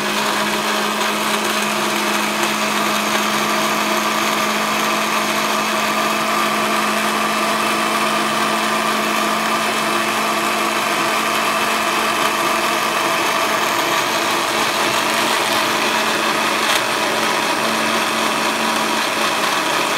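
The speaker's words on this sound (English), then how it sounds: "I'm ready to put the blender on." A blender makes a banana, apple and tropical fruit smoothie, whirring steadily for the whole stretch, a loud, constant motor whine with no change in speed and no voices.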